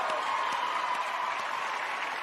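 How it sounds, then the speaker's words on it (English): Audience applause for teachers at a comedy show, a steady dense clapping wash that holds evenly for the whole stretch without a break. "Round of applause for teachers."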